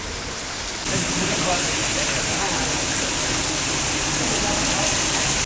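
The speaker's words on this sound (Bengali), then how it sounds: "এবছরও আমাদের এখানে এরকমই বৃষ্টি হচ্ছে" Heavy rain suddenly intensifies into a loud, continuous roar of water pouring down, steady and close throughout.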